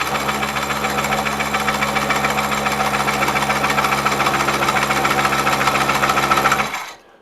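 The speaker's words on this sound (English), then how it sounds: "I can turn the lathe on, and I place my thumb over the cutter here, and I can just ease that in." Wood lathe spinning a bowl blank while a Woodcut Tools Bowlsaver coring cutter is eased into the wood, giving a steady, loud, dense mechanical whir with a constant hum, running alone and unbroken until it stops abruptly near the end.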